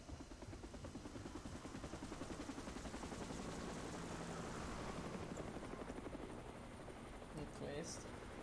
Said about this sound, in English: How did they land that helicopter with those trees like that?